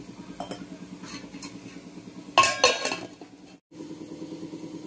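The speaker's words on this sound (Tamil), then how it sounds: "மூடி போட்டு மூடி வச்சிடலாம்." A lid goes onto a cooking pot of ripe nendran banana being softened for baby food, giving a brief pair of loud metallic clanks and rattles midway over a steady, pulsing kitchen hum.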